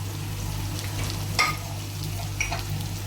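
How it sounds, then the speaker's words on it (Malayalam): Onions and small shallots frying together in hot oil, a steady close sizzle with a couple of brief stirring scrapes, no talking. "എണ്ണ ചൂടായി വന്നിട്ടുണ്ട്. നമുക്കതിലേക്ക് ഉള്ളി ചേർത്ത് കൊടുക്കാം."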